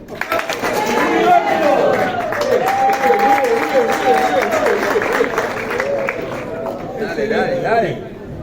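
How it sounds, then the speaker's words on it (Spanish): Audience applause and clapping at a physical education class event, mixed with crowd chatter and voices throughout, with a loud, steady level. "Vamos a dar un aplauso"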